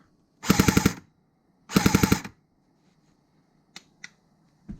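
A CYMA M14 airsoft rifle fires two rapid bursts of about half a second each, then a few sharp single clicks follow at intervals in a quiet room.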